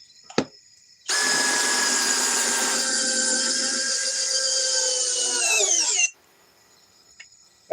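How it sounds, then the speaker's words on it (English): A Worx cordless drill spins up sharply after a brief click, runs at a steady high whine for about five seconds, then winds down and stops, followed by near silence and a faint tap. "This drill does pack a punch, 515 inch-pounds."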